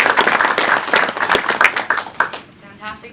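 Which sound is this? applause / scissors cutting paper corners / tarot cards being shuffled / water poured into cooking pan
applause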